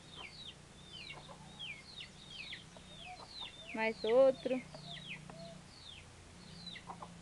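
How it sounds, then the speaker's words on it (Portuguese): Several backyard chickens cluck and call nearby, with a louder burst of clucking midway, while small birds chirp and a voice speaks briefly. "Isso aqui é os frangos da vizinha."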